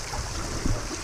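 Stream water trickling and flowing through rocks at a small dam, a steady close wash of running water with a brief louder gurgle partway through.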